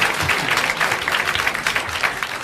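A studio audience at a 1981 French television broadcast claps in a dense, continuous burst, fairly loud and close, with a faint crowd murmur beneath the hands.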